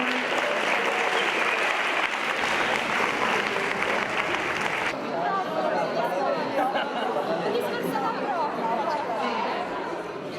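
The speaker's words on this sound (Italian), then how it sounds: "Un applauso finale." Final applause rings out at a school award ceremony, loud and sustained for about five seconds before it gives way to crowd chatter and nearby voices.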